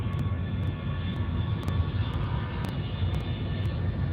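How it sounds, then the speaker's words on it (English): An aircraft rumbles as it takes off from a Heathrow runway, a continuous distant low roar heard from outside with faint clicking noises on top. "something's taken off, folks. You can just hear it on the runway right now"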